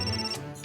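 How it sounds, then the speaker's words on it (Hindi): Phone ringtone sounding briefly, a bright electronic tone over a steady hum, alone without talk. "प्रोड्यूसर का फोन है।"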